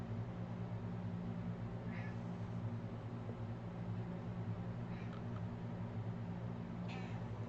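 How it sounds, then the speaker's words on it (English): A pet cat meows several times, faint short calls near two, five and seven seconds, over a steady low electrical hum in a quiet indoor room. "That's my kitty cat."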